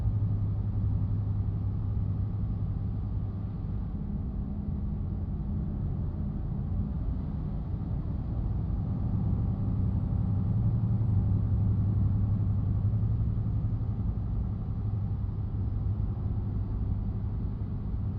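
Steady engine rumble and road noise from a truck in American Truck Simulator, a continuous low drone with no distinct pass-by swell, no talk over it.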